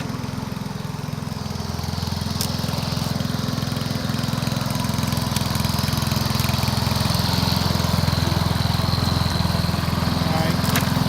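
A Honda lawn mower, found in the trash and under repair, runs steadily in high gear with a constant loud engine drone throughout, close to the listener.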